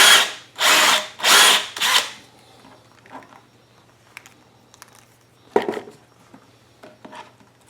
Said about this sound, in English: it's going to go right through the center of this emission sticker. And once I get it drilled